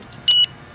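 A steady electronic beep rings out once for about a fifth of a second from the alarm on a Ranger boat's locker bar, clear and fairly close over a quiet background.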